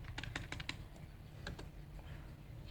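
Several quick keystrokes on a computer keyboard in two short bursts with a pause between, close and fairly quiet, no voices.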